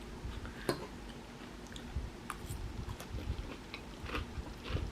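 Crunchy kale Caesar salad with crispy chickpeas being chewed close up, quiet irregular crunches and bites scattered through the clip over a faint steady background hiss.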